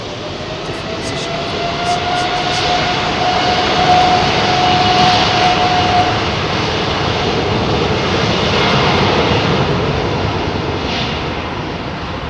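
Boeing 787 Dreamliner jet engines roaring at London Heathrow Airport, a loud continuous broadband rush that swells and holds for the whole stretch with a faint whine at first, no talking over it.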